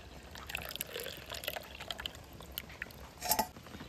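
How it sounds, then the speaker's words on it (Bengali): Herbal tea trickles through a strainer into a cup with a soft, close pour, faint drips and light clinks, ending in a slightly louder splash. "ছাঁকুনি দিয়ে এইভাবে আমি কাপের মধ্যে ছেঁকে নেব।"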